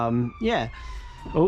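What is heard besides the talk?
emergency vehicle siren passing in the background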